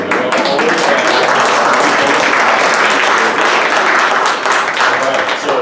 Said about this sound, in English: wave your hand and the other people can offer some applause